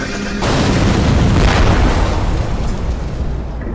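A bomb explodes in a Skibidi Toilet animation with a sudden loud boom that swells into a sustained roaring rumble, heavy in the lows and slowly fading, with no talk.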